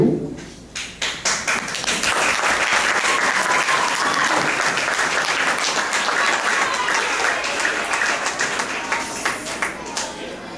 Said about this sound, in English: I would like to ask that you hold your applause until we hand out all the awards for each of the dens